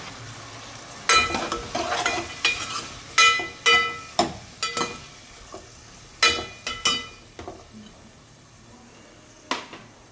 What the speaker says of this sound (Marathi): आता हे छान 5 मिनिटं आपण तेलात परतून घेऊ